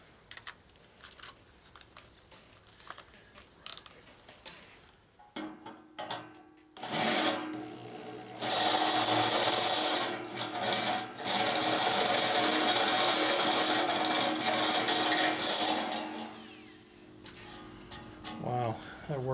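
A Harbor Freight step drill bit bores a hole with its larger taper, a loud grinding whine running steadily for about ten seconds after a few light clicks and handling noises, then cutting off.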